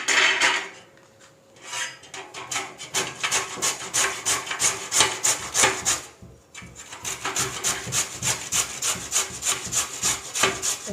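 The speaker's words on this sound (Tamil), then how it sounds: "இப்போ இந்த மாதிரி ஒரு துருவலில் பெரிய கண்ணில் நம்ம துருவி எடுத்துக்கலாம்." Peeled potatoes are grated on the large holes of a grater: a fast, rhythmic rasping scrape, close and loud, that pauses briefly twice before continuing in quick even strokes, with no talking.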